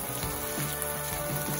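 Paprika hitting a hot paella pan of sizzling oil and squid ink for black rice, producing a brief steady sizzle up close with faint bubbling pulses.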